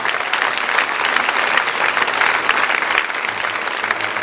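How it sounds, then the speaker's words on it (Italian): Audience applause breaks out for a swimmer at a 2009 event in Italy, a dense, steady wash of clapping from a sizeable crowd that holds at full strength for several seconds. "Ancora un grande applauso ad Alessio Boggiato."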